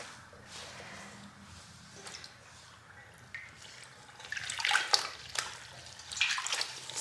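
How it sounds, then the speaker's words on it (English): Indigo-dye fabric being dipped and wetted in a pot of water, with soft sloshing and splashing that grows busier toward the end, quiet and close. "So I'm going to get my piece wet in this pot of water."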